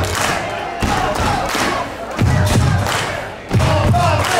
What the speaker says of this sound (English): This crowd trying to do a little a cappella version here of some